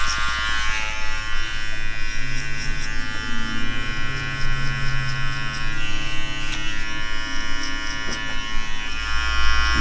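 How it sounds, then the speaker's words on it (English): Electric hair clippers buzz steadily and close up throughout a skin fade haircut with a half guard, a constant hum with slight shifts as the blade moves through hair. "Just paying attention to my clipper teeth to keep consistency throughout the whole haircut."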